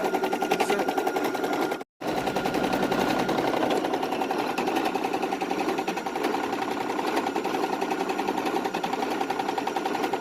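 A Brother PE800 embroidery machine stitches a design with a steady, rapid mechanical chatter that stays loud and even throughout, apart from one brief stop near the start.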